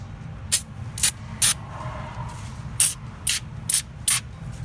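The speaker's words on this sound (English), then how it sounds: "Just going to spray this area with some Super Tech that I got from Walmart." Super Tech degreaser sprayed from an aerosol can onto the intake tube of a 1992 Toyota Supra, seven short sharp hissing bursts in two uneven groups, close and loud over a quiet background hum.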